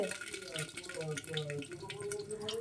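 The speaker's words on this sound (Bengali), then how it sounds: "দেখেছো বন্ধুরা কেমন ফুটছে" Pangas fish curry with green chilies and a mustard-seed tempering bubbles in a pan, giving a soft, steady crackle and gurgle at low volume while a person talks over it.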